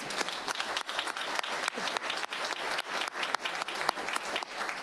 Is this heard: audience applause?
yes